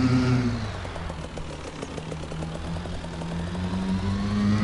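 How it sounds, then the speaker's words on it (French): Motorbike engine in the Farming Simulator 22 farming game, a steady mid-pitched drone with a brief rev at the start, holding at a constant level throughout with no talk. "j'adore le bruit de la moto"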